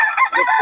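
A rooster crows loudly and close by, a single continuous call with no talking.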